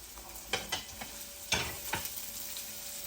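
Onion sautéing in a pan at the start of pork menudo, a quiet close sizzle marked by several sharp scraping stirs of the spatula, with no one talking.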